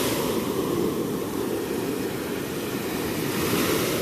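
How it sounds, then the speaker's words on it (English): Rough ocean surf pounds a beach with unguarded water, a loud, dense, continuous roar of breaking waves close by, with no voices. "The waters are rough."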